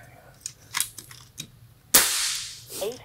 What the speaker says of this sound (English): Just shoot it till it settles.